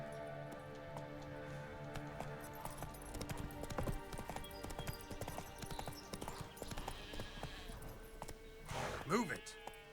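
Hooves of the horse Roach clip-clop in a steady walking rhythm in a video game, close and clear, with game music and a speaking voice over it.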